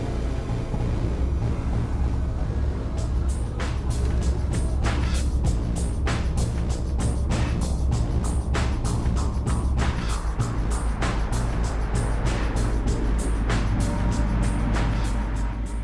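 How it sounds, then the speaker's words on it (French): A Volvo refrigerated truck moves at about 60 km/h through the Mont Blanc tunnel with a constant low engine rumble, as a rapid series of sharp clicks or ticks passes through the steady roar. "Il entre dans le tunnel et roule à 60 à l'heure."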